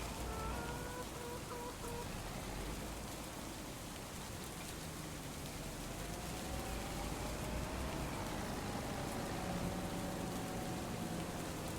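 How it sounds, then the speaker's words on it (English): Steady rain falls in Farming Simulator 25, a soft continuous hiss of drops on surfaces, fairly faint with faint tonal hums underneath. "As the rain is done, it does not appear to actually be done as expected."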